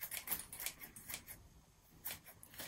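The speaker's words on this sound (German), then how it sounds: "schneide das Gras am Flaschenboden ab." Sharp scissors snipping grass at the base of a bottle, a quick run of faint crisp cuts, then a pause and a few more snips, close but quiet with no talk.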